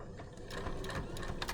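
A sewing machine stitches bias binding down in the ditch of a seam, a short, steady, close mechanical whirr with a faint rhythmic ticking running throughout.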